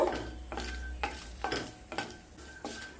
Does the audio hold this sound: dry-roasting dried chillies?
yes